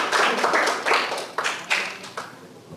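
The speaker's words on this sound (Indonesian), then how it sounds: "tepuk tangan dulu" A classroom of students claps in several short, uneven bursts, the applause fairly close and fading in and out alone without talk.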